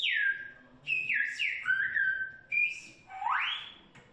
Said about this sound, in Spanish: Traducen el mensaje silbado.